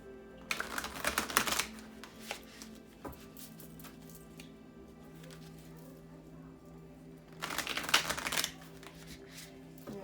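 Two bursts of crisp, rapid tarot card riffling, one near the start and another later, with quieter handling of the deck in between.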